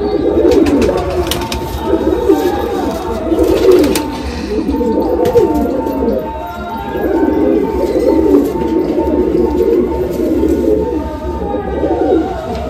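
Madrasi pigeons of the fulshira (full-headed) type coo steadily together in a loft, their overlapping low throaty calls rolling on continuously at close range throughout.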